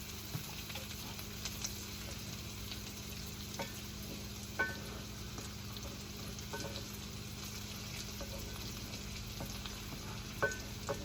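Vegetables sauté in a pan for a scratch soup, with a steady low sizzle running throughout and a few faint utensil clinks now and then.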